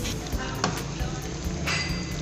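Besan roti dough laid on a hot tawa gives a steady, moderate sizzle with faint clinks and brief crackles, no voices present.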